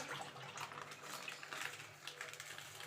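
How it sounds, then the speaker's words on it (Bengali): Milk pours into a wok holding a little water, making a soft, continuous splashing rush that stays faint and close for the whole stretch, with no talking. "এবার দুধটা আমি ঢেলে দেবো"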